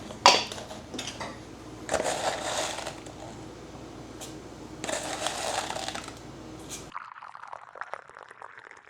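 A teapot being handled while mint steeps in hot water, with clinks, scrapes and pouring bursts up close, followed by a quieter tail at the end.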